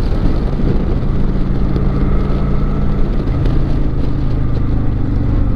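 A Harley-Davidson motorcycle pulls under throttle with a continuous low engine drone, heavily mixed with steady wind rush. The engine stays close, and its pitch holds fairly even across the clip.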